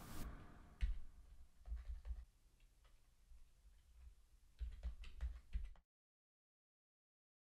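Quiet computer keyboard typing comes in scattered bursts of soft clicks and taps as chords are entered, pausing between clusters before falling silent.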